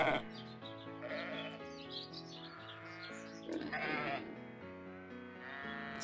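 Sheep bleat over game music in the Babe PS2 video game, several wavering cries heard clearly and close.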